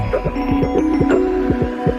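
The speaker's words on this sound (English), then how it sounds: "they bolt the wood onto the right side of a specially designed device called a propeller carving machine" A propeller carving machine shaping wood, giving a steady mechanical hum with a rhythmic, repeating throb as the shaper cuts, loud and close with no talking.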